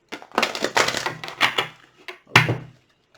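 Tarot cards are shuffled close by in several quick bursts of riffling and flapping, with short pauses between them and a final sharp burst near the end.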